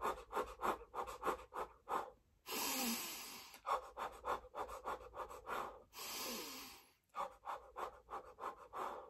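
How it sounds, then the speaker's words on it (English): Rhythmic puff breathing for labour: short, sharp exhalations in quick repeated bursts, broken by a couple of longer steady breaths, close and clear with no talking. "you can do what we call puff breathing"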